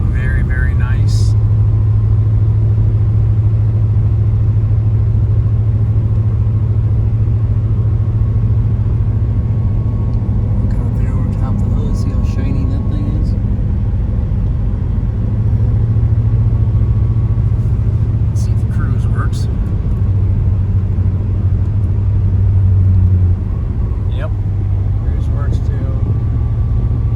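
A 1993 Chevrolet Caprice wagon with a 5.7 V8 drives along, its steady low engine rumble and road noise holding loud and even throughout, with faint sporadic higher clicks and rattles on top.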